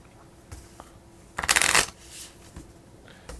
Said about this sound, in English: We're going to shuffle Julie's character deck now after revealing